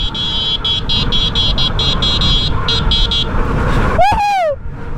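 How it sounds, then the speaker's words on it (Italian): A Lankeleisi MG 740 Plus 2000-watt e-bike sounds its horn in a quick series of rhythmic electronic beeps during a speed test, loud and close over road and motor noise, followed by a brief swooping tone. "Abbiamo anche il clacson."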